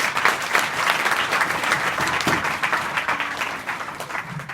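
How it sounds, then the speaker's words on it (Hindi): An audience of schoolgirls at a higher secondary school education program applauds with dense, sustained clapping that fills the room and slowly thins out toward the end. "ताली तो बजा लो।"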